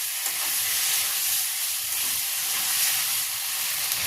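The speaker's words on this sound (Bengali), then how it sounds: "যে টমেটোটা কেটে রেখেছিলাম ওইটা তেলের মধ্যে দিয়ে দিচ্ছি, দিয়ে আবারও নাড়াচাড়া করে ভেজে নেব।" Chopped tomato hits hot oil with fried ginger and garlic, giving a loud, steady close sizzle and hiss with faint stirring scrapes and no talking.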